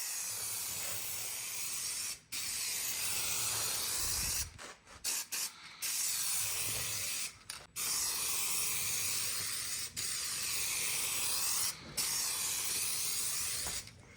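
Aerosol spray of self-etching primer and trim black over raw aluminum trim and side steps on a BMW X5 diesel, a steady close hiss broken by several short pauses between passes.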